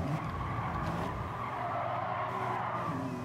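Tires skid and squeal as a BMW M3 GTR slides out in a Need for Speed Most Wanted racing game, a steady loud screech over engine drone lasting the whole moment, with no talk.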